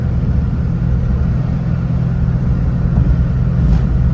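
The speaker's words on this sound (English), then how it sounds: "This is the fastest I've gone in the Minica." A Mitsubishi Minica kei car speeds downhill at around 110, its engine and road rumble forming a loud, steady drone close by, with no letup across the stretch.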